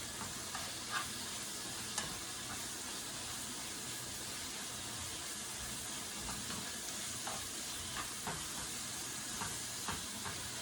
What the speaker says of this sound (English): You never lost that sizzle.